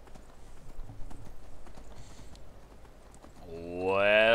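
Horse hooves clip-clop steadily on the ground in the Skyrim video game, a continuous rhythmic trot that carries through the whole stretch before a rising tonal flourish of game music swells in near the end.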